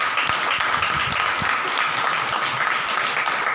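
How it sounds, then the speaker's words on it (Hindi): A church congregation at a Sunday service claps loudly and continuously for the Holy Spirit, a thick, even wash of many hands with no voices breaking through. "एक बार पवित्र आत्मा के लिए जोरदार ताली बजाएं"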